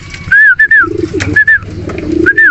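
Pigeons coo close by in repeated low, throaty bursts, with higher warbling calls in between.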